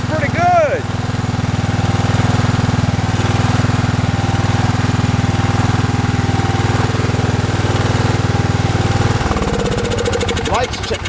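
A small engine runs on choke with a loud, steady close drone and a rough pulsing throb, its pitch dropping and stuttering near the end as the idle changes.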